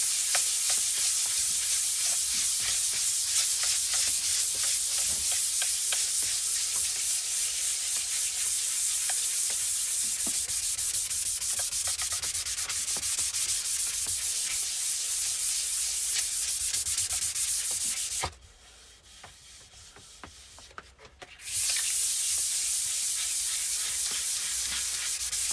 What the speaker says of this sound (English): let's set a little bit of a light hand sand on this with some 400 now